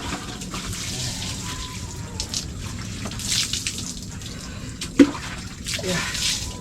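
Water scooped and poured with a dipper while bathing, splashing in uneven bursts over a steady running-water wash, close up, with a sharper splash near the end.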